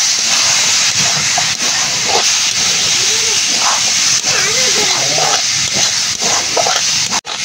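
Milk is poured into a hot pan of reddish fried grated coconut for a jaggery patishapta filling, producing a loud, close, sustained steamy hiss, with a faint voice underneath.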